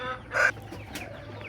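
A tiger-breed laying hen gives one short, loud cluck, followed by faint scattered clucks from nearby poultry.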